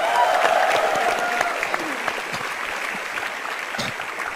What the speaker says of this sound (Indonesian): Tepuk tangan buat keempat komik kita.